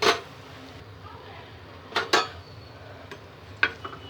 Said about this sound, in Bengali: এটা একবার নেড়ে দেবো।